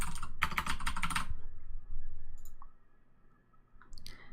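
Quick, close keystrokes clatter in a dense burst on a computer keyboard, then a lone click and a short final flurry in an otherwise quiet room.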